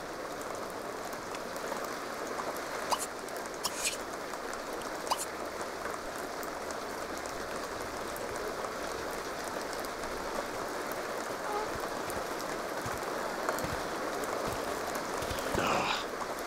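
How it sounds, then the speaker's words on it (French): Steady rain falls in The Sims 2 life-simulation game, a continuous even patter with a few sharper drops throughout, no talking. "Mais il pleut."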